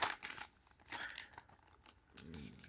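Packing tape and wrapping are pulled off a small parcel of vintage photos and postcards, with close, intermittent crinkling and tearing in short bursts.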